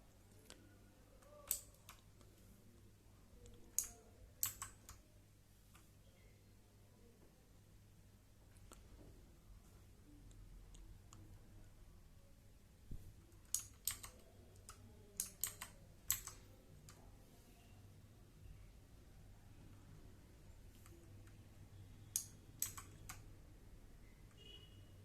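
Keys clatter on a Redgear MK853 mechanical RGB LED keyboard in scattered quick bursts of sharp clicks, close and fairly quiet over a steady low hum, with pauses between the flurries.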